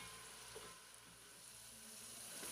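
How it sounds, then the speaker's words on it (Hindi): Chopped onions frying in a pan over a medium flame give a faint, steady sizzle with a soft hiss throughout, quiet and without any talking. "प्याज को भूनते हुए 3 से 4 मिनट हो गए हैं।"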